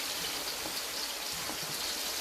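Sliced onions hitting hot oil for a Nigerian tomato stew, a steady close sizzle and crackle of frying that runs evenly throughout with no one talking.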